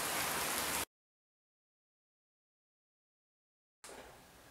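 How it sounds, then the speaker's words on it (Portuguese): Rain falls outside in a steady, soft patter. It is heard in two short stretches, split by a long gap of total silence. "Ai, que delícia essa chuvinha caindo lá fora."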